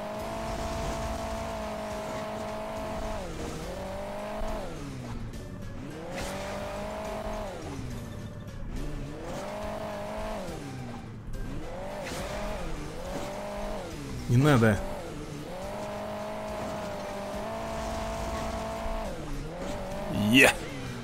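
Cars race in Hill Climb Racing 2, with steady looping engine drones that rise and fall in pitch, plus occasional short tire squeals, under continuous talk.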